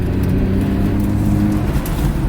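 A rebuilt 400R car accelerating hard on a drag strip, its engine roaring loud and close with a steady, dense low drone throughout and no voices.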